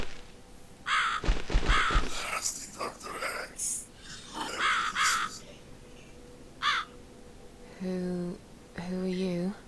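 A crow caws several times in harsh, raspy calls scattered among other voices and noises in a game scene, up close and fairly loud.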